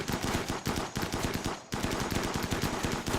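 Automatic turrets in the video game Rimworld firing in rapid, continuous bursts, dense and loud throughout with one brief gap partway through.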